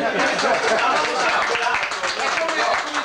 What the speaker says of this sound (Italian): Finitelo sto applauso